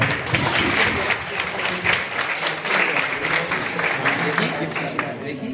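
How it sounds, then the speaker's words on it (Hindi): Audience clapping after a stage performance at a farewell event, a steady wash of applause that holds loud and even throughout, with some voices mixed into the crowd. "अगर प्रस्तुति पसंद आई हो तो तालियां बजाइए।"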